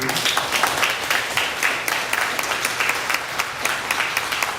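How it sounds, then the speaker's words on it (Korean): Applause from a church congregation during a sermon, a steady dense clapping sustained throughout at moderate loudness with no talk over it. "격려하는 박수를 한번 쳐줬으면 좋겠습니다"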